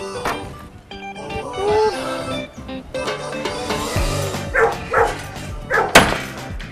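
A dog barks in a few sharp bursts on a street, mixed with clattering knocks and background commotion, fairly close and loud.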